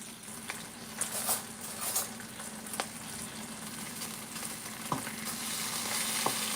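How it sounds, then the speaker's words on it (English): Bacon sizzling as its fat renders in a pan, a steady close crackle with scattered pops and spatters, no talk. "I don't like to rush the bacon. I like to render all the fat out of it."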